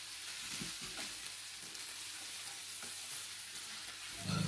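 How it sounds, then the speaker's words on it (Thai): Basil leaves are stir-fried in a pan for Thai-style spaghetti with dried chilli. The sizzle is soft and steady, with faint stirring scrapes and no voices. "ผัดให้ใบโหระพาสุกสักเล็กน้อยครับ"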